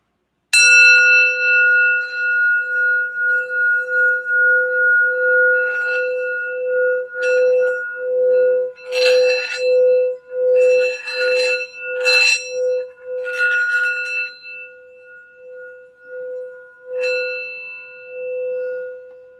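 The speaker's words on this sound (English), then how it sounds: "I'm just going to do the sound bell for a minute to set our intention and energy" A sound bell for setting intention and energy rings out clearly in a quiet room, a sustained metallic tone struck repeatedly over about twenty seconds, each strike fading before the next, with no talking.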